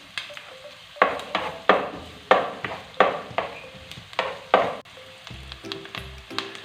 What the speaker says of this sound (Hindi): वन टेबलस्पून इसमें मैं चॉप गार्लिक ऐड कर रही हूँ, इसको भी सौते कर लेना है।